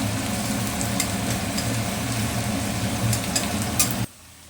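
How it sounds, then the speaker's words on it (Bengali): Chopped onions sizzle and crackle steadily as they are stirred and browned in a hot pan for mutton curry, a close, continuous frying hiss that cuts off abruptly near the end. "এখন এটা নাড়াচাড়া করবো, একটু ব্রাউন করে নেব"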